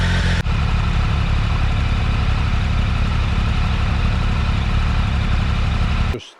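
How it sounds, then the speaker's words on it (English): An adventure motorcycle engine idles while warming up at a wild camping spot, a loud, steady low rumble close by that runs unbroken for about six seconds before cutting off abruptly, with no talk. "That's the bike suitably warmed up"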